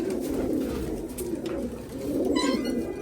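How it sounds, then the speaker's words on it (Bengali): Pigeons kept in a home loft coo in soft, low, rolling calls that repeat continuously and close by, with no talk over them. "এই নটটা হচ্ছে আমার বাসার আগের কবুতর"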